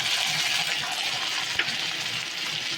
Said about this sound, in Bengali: এবার বাটা মশলাটা দিয়ে দেব